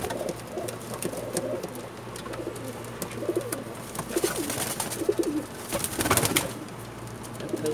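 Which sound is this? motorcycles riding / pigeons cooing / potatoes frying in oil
pigeons cooing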